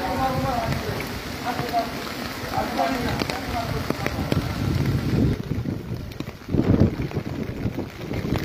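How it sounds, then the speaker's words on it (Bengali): Strong gusting wind buffets the microphone in rumbling bursts over a background of steady rain during a prolonged downpour in Cumilla, with a person talking intermittently over it. "প্রচুর বাতাস।"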